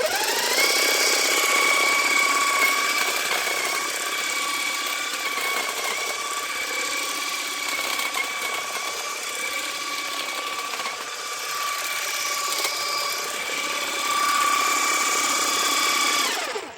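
Parkside Performance 40V cordless hedge trimmer with a faulty control board running on a quick test: a steady, loud high-pitched motor whine with tonal harmonics, held continuously for the whole stretch with slight variations and no talking.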